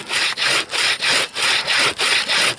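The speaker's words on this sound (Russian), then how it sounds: "она, в принципе, пилит сама" A saw cuts through frozen wood at minus fifty degrees in the taiga frost, with about seven steady back-and-forth rasping strokes in an even rhythm, close and loud, with no voices.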